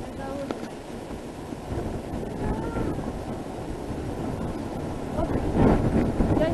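Steady wind roaring and buffeting across the microphone on the Eiffel Tower, with muffled voices underneath and a gust building louder near the end.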